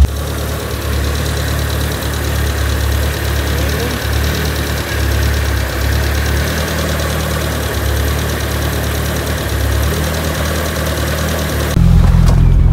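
Proton Saga car engine idling steadily with a low, continuous rumble and faint vibration, close by and alone, its pitch lifting slightly toward the end as the idle speed is raised.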